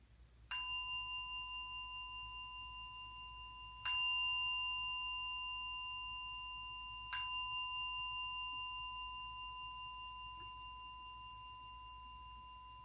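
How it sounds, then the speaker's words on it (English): A meditation bell is struck three times at slow, even intervals to open a session, each bright chime ringing out and decaying slowly over a quiet, low room hum. "I'm going to ring the bell 3 times to start"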